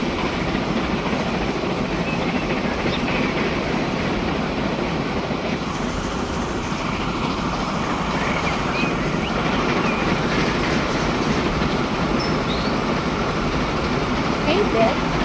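A train in the simulation game Transport Fever 2 labors slowly up a hill, a steady, dense rumble with a faint rhythmic rattle that holds at one loudness throughout, with no voices audible over it.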